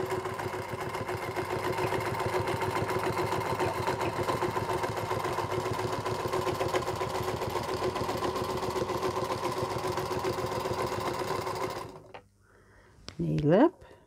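A Singer Featherweight sewing machine runs steadily for about twelve seconds with a continuous motorized whir, stitching a ruler-work pattern in fabric. It stops abruptly, followed by a brief moment of quieter handling sounds.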